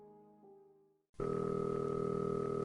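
Telephone dial tone in an animated scene, a soft tonal hum fading out, then a loud, steady electronic dial tone that starts abruptly and holds with a slight pulsing flutter until it cuts off.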